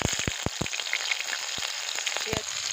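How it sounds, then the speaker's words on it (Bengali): Onion, garlic and green chilli sizzle in hot oil in a wok, a steady hiss with several sharp spattering pops near the start and another near the end, close by. "এবার পেঁয়াজ রসুন আর কাঁচা লঙ্কা ফোড়ন দেবো।"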